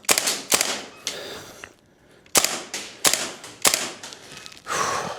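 WellPro AK12 gas blowback airsoft rifle firing at close range, sharp cracking shots in short bursts and single pops with metallic bolt clacks, separated by brief quiet pauses, no speech.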